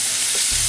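Chopped flank steak for steak picado drops into a hot pan and sizzles, a steady loud frying hiss with a stronger low rumble building in the final moments.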